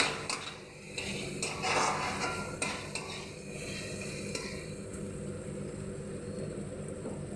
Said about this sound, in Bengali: চালটা দিয়ে খুব ভালো করে মশলার সঙ্গে কষিয়ে নিতে হবে।